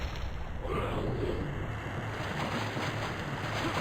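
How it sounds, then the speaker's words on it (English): A waterfall in the Turok: Dinosaur Hunter remastered video game, set in a jungle; a steady, full rushing roar of falling water continues alone at moderate loudness throughout. "nothing behind the waterfall"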